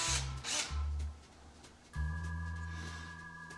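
A power drill whirs in short bursts, then runs steadily, loud and close, with a sustained motor whine and no talking.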